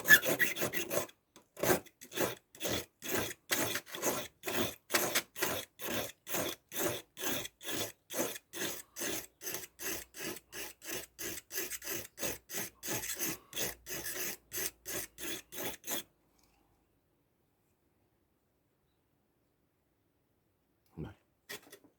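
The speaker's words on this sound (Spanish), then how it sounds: "ver a un tío pasando un chisme por la piedra 10 minutos o cuarto de hora" A Victorinox knife blade rasps on a whetstone in steady back-and-forth strokes for about sixteen seconds, close and fairly quiet, then stops, with one faint knock near the end.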